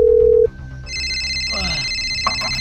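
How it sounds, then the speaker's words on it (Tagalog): A telephone rings after a brief tone ends, a bright repeating electronic ring that stays steady and loud, with no speech over it. "Uy! May tumawag!"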